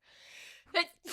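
A single sharp sneeze bursts out close to the microphone between stretches of casual conversation.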